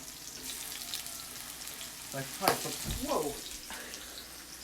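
Vegan zucchini and collard fritters fry in oil with a soft, steady sizzle, broken by a sharper splatter and scraping clatter midway, while a voice speaks briefly over it.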